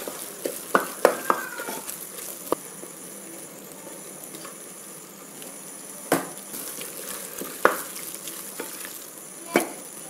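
Tomatoes and onions wilting in a pan for Cochin-style beef rice: a soft continuous sizzle broken by sharp clinks and scrapes of a stirring spoon at irregular intervals.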